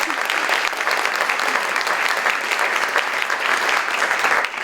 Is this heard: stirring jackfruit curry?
no